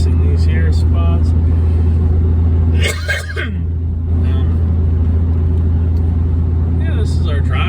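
A car cruises along the Turnagain Arm highway in Alaska, a steady low engine and road rumble running throughout with a brief dip in the middle, while people talk over it inside the cabin.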